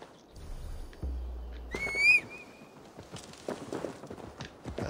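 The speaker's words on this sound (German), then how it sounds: "Wir holen uns jetzt mal unser Pferd wieder." A horse in Assassin's Creed Valhalla gives a loud, rising whinny, followed by a steady patter of hooves and footsteps against a quiet game background.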